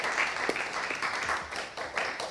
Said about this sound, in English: Applause also for the dancers.